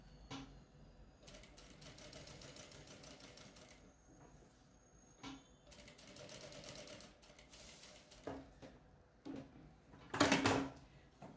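A sewing machine runs a safety stitch on leftover patchwork fabric for a placemat, soft rapid mechanical chatter in several bursts with pauses between, fairly quiet and close, ending with a sharper clack.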